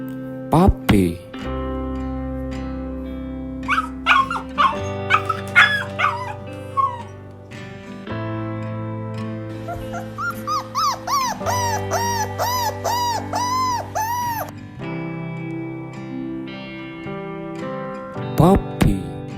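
Puppy yipping, barking and whimpering in short repeated bursts, with a run of rhythmic high whines in the middle, all over a steady musical backing.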